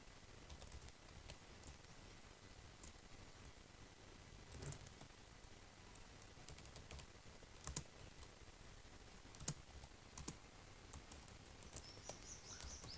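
Soft, irregular clicking of a computer keyboard as code is typed for Unix shell programming, quiet and close with scattered sharper keystrokes, no voice over it.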